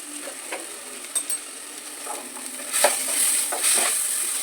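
Onion and chili-garlic paste stirred in a frying pan, with a faint sizzle under scattered close scrapes and knocks of the spoon against the pan, steady and moderately loud, no talking.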